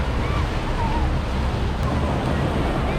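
Steady roar of ocean surf with wind noise buffeting the microphone near Waikiki, Hawaii, where surfers ride the waves; a loud, unbroken wash of breaking water.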